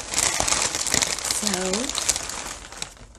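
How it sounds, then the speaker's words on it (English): Three kinds of plastic bags being scrunched by hand, a dense crinkling texture running steadily throughout, close and fairly loud, with a brief spoken word near the start. "I'm going to be scrunching some plastic bags, and I have three kinds of plastic bags."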